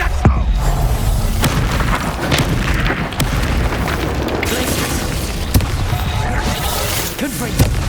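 Heavy blasts from the Reducto spell in Hogwarts Legacy boom through a dense, continuous magical duel, with sharp impacts at several points over a steady roar of combat effects.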